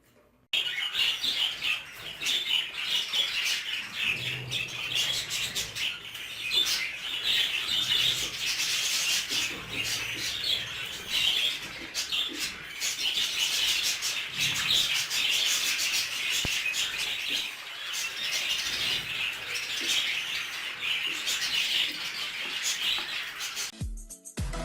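A flock of budgerigars in a breeding aviary keeps up a dense, continuous chatter of chirps and twitters, steady and fairly loud throughout, with no voices.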